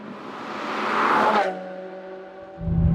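Manual Ferrari F430 with a naturally aspirated V8 revving up under load, then easing into a steadier drone with a fresh surge near the end, heard alone and close.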